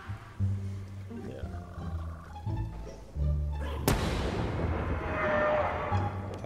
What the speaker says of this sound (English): What the heck was that explosion?